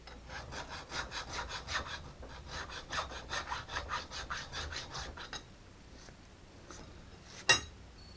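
Hand filing strokes rasp across a metal T-nut for a rotary table, knocking off a burr in a steady back-and-forth rhythm for about five seconds, then quieter scraping and a sharp tap near the end.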